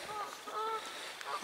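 Geese calling at night on a lake in Oxford, a couple of faint honks drifting over steady outdoor background noise.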